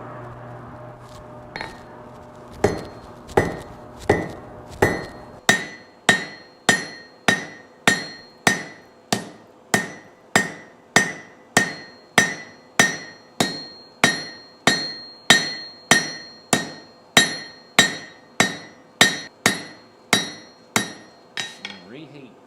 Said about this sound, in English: I'm going to pull it out and start flattening this slug on the end